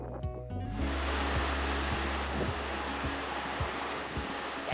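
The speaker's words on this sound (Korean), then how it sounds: "잔잔한 파도 소리를 들으며 완연한 봄 정취를 느껴봅니다." Gentle ocean waves wash steadily against the rocky islet of Seuldo on the Korean coast in spring, a continuous broadband surf rush with soft low swells rising and falling, fairly close, with no voices.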